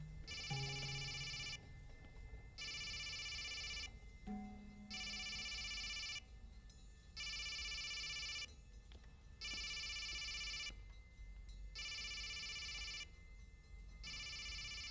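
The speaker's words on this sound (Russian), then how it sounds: "Вам звонят." A telephone rings in repeated bursts, each trill lasting over a second with short gaps between, heard indoors at moderate volume against a faint background.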